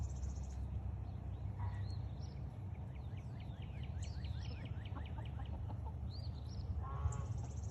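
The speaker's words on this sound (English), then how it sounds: "It's just backyard chickens." Backyard chickens cluck and chatter softly in a quiet yard, a series of short calls and a few louder squawks over a low background hum.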